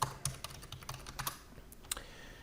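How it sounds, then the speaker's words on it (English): Quiet, steady typing on a computer keyboard while entering a password, with a run of light, close key clicks that slow and thin out toward the end. "Type in your password"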